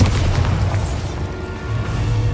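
A Bombarda spell detonating in Hogwarts Legacy, a deep low booming blast that rumbles steadily and loud for a couple of seconds with no speech over it.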